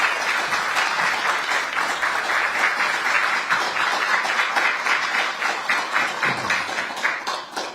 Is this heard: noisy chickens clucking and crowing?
no